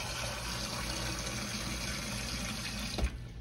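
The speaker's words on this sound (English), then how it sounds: "And I'm going to fill this up with water." Tap water pours steadily into an Instant Pot over butter beans, a continuous close splashing fill that runs evenly for a few seconds before a small clunk near the end.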